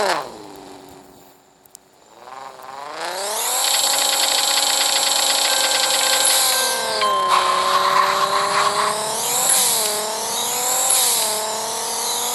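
A race car in a video game race: a loud engine climbs steadily in pitch as it accelerates, then holds a sustained high roar with shifting whine and brief squeals, no talking.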